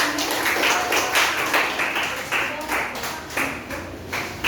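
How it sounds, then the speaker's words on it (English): A classroom group gives a short round of applause, with many hands clapping in a dense, uneven patter that lasts a few seconds and fades slightly toward the end. "A round of applause"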